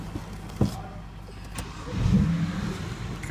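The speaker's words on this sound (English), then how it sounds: "So what we could do actually is start the car." A 2009 BMW 335i engine starting: a sharp click, then the engine cranks and catches into a rising rumble near the two-second mark, close and moderately loud, with no voices.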